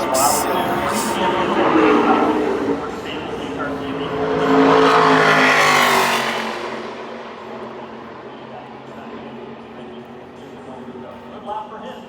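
A NASCAR Craftsman Truck Series truck on a qualifying lap at Phoenix roars past loud and close, its engine note rising and then fading away, under continuous commentary that goes on after the truck has passed.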